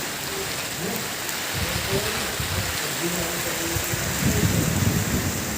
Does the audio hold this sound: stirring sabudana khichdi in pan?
no